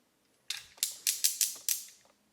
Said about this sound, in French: On entend les petits ratchets de partout.